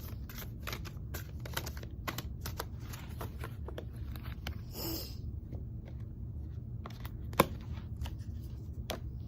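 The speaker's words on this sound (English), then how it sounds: "Let's just cut the deck then." Cards from a tarot deck being cut and shuffled, giving a run of soft, quick riffling taps and flutters spread through the clip, with a brighter burst near the middle and one sharper snap later, all fairly quiet.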